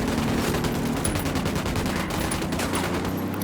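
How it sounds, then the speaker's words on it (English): Rapid gunfire in Ghost Recon Wildlands, a dense, continuous fusillade of loud automatic bursts filling the whole stretch without pause. "I'm opening fire."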